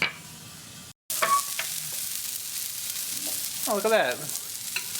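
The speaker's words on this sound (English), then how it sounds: "It looks like meat juice popping out of there." An Impossible Burger patty fries in coconut oil in a pan, giving a steady close sizzle with scattered pops and spatters; a brief dropout near the start, and a person exclaims once over the frying.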